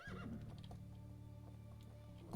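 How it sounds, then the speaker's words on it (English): Horse in the Medieval Dynasty video game gives a quick whinny at the start, followed by soft clip-clop hoofbeats and a steady low hum; fairly quiet overall. "Hi, horse."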